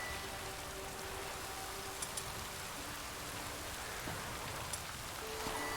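Steady rainfall in the video game The Witcher 3, a dense even hiss with faint droplet ticks and a low hum underneath, continuous throughout.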